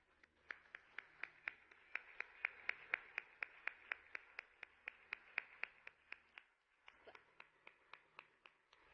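A small audience at an awards ceremony claps sparsely in a steady, even rhythm of single claps, quiet and fairly close, with a brief pause near the end before a few more claps; no one talks.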